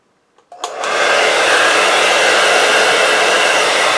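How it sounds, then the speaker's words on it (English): A couple of clicks, then a hair dryer on cool mode switches on and blows with a loud, steady whoosh very close up. "I'm just gonna take it and blow it off with a hairdryer in cool mode"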